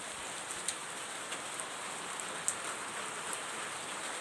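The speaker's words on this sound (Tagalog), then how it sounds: "Walang tigil ang ulan." Steady rain falls outdoors onto indoor potted plants, including a variegated Burle Marx, making a continuous dense hiss with a few sharper drips standing out, no voices.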